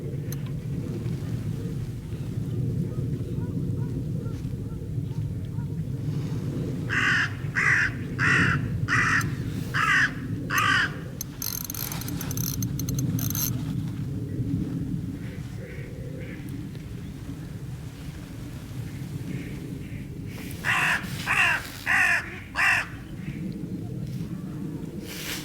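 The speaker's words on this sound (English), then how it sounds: "Them crows are annoying, aren't they?" Crows caw repeatedly beside a fishing lake during a match, in two loud bursts of harsh calls over steady low outdoor rumble and background noise, with no talk.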